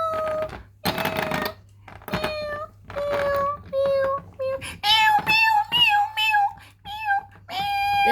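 Repeated cat-like meows come in short bursts, several in a row, rising and falling in pitch; some sound like a person imitating a cat, with brief talk between.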